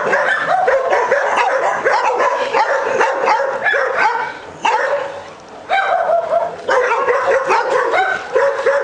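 Dogs barking loudly and continuously along a mountain bike ride route, a dense run of overlapping close barks and yips with brief dips in the middle.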